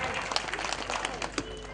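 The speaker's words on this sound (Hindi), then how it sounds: "जोरदार ताली।" Crowd applause at a public municipal event in Godaita, Sarlahi, a dense, steady patter of many hands clapping at moderate distance, with faint voices mixed underneath.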